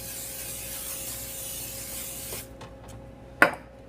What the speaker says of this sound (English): I'm going to go ahead and spray them again.